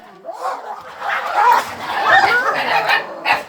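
A dog yips and barks excitedly in short bursts, close by, with some whimpering tones mixed in.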